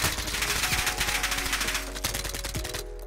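An Uzi fires in a Call of Duty Modern Warfare Search and Destroy match: loud, rapid automatic bursts that keep going in a tight rhythm, then cut off sharply at the end.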